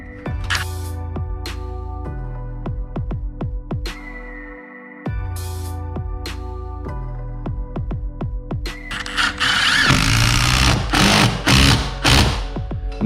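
A power driver drives a lag bolt into the flap of a garage door spring bracket, heard as a rapid train of sharp impact clicks, a short steady whir, then a loud, busy rattling burst at the end.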